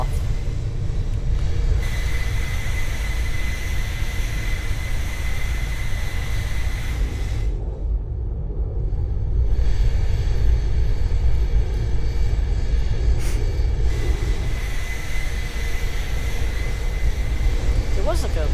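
A video game airliner in Aeronautica takes off from an icy runway, its engines roaring steadily with a high whine. The roar briefly drops out twice and returns, and a voice speaks over it.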